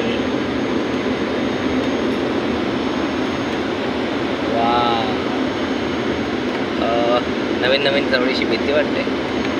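Steady, loud airplane cabin roar of jet engines during a climb-out flight from Tirupati to Kolhapur, a continuous broadband drone with a person speaking briefly over it.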